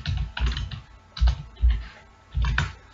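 Someone types on a computer keyboard while writing C code, in close, clattering bursts of keystrokes separated by short pauses, with no talk.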